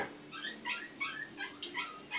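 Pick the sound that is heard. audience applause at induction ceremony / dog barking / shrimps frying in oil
dog barking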